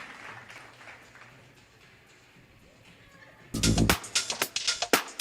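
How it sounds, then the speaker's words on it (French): An audience breaks into dense, loud applause for a performer's entrance at a French-language stage show, bursting in after several seconds of quiet room murmur and continuing in uneven waves to the end. "il faut l'applaudir très fort."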